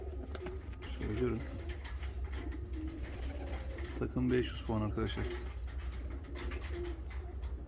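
Show pigeons, a pair of fancy breed birds, give low rolling coos in several short bursts near and clear, while someone talks over them with a constant low hum behind.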